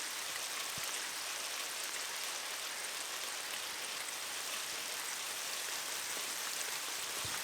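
Eggs fry in a pan as a film soundtrack effect, a steady dense sizzle and crackle like light rain that stays constant and fairly soft throughout, with no voices.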